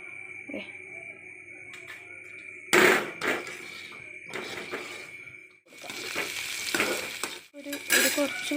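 Papadam fries in hot oil in a pan, with bursts of loud crackling sizzle broken by quieter gaps and a few clanks of a utensil against the pan, all close by.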